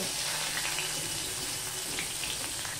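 Garlic and onion hit hot oil for a Bengali onion-stalk (piyaj koli) dish, giving a steady, close, broadband sizzle that holds evenly throughout without pause.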